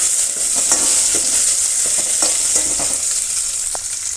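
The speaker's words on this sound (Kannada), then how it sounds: "ಒಗ್ಗರಣೆ ಫ್ರೈ ಆಗಿದೆ." A tempering of mustard seeds, a small onion and fresh curry leaves frying in oil for a sambar-style dal, a loud close sizzle with repeated scraping and stirring strokes and no voices.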